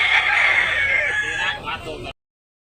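A backyard-bred rooster in Tabunok, Talisay, Cebu crows loudly and close, one long drawn-out call with a few rougher calls at the end, then silence.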